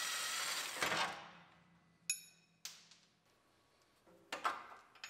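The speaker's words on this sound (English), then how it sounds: "Pull the panhard bar off." Hand tools work under a GMC Yukon during a collision rebuild as the panhard bar comes off: a grinding scrape, then sharp metallic clinks and knocks with ringing tails, quiet and intermittent.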